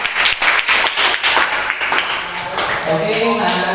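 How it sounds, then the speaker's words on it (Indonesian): Schoolchildren in a classroom clap for a pupil named Faiz, a short burst of brisk applause that fades as a voice and a faint tone come in. "Tepuk tangan Mas Faiz."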